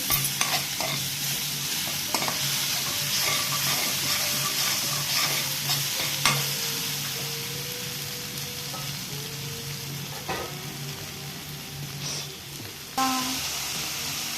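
Ginger garlic paste fries in a pan on low heat, a continuous soft sizzle broken by repeated scraping stirs of a spoon, close and alone with no talk.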